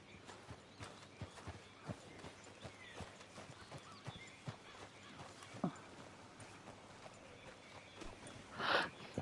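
Hooves of a horse walking in the video game Red Dead Redemption 2: a faint, steady clip-clop that continues throughout, with a brief louder rustle near the end.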